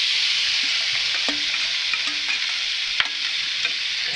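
Shredded leftover Thanksgiving turkey hits a hot buttered pan, a steady close sizzle running throughout with a few soft scrapes and light clicks of stirring on top.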